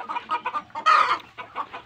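Hens in a large hen house cluck in short, close bursts, with one louder squawk in the middle and no talk.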